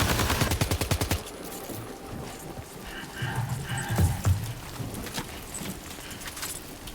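Video game gunfire: a rapid burst of shots up front, then scattered sharper reports and thuds further into the scene, with a voice speaking over parts of it.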